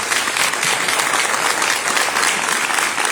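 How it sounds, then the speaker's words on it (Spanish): Sustained audience applause fills a ceremony hall, a dense, steady clapping from a large crowd that stays loud and even throughout with no speech over it. "le pedimos otro aplauso"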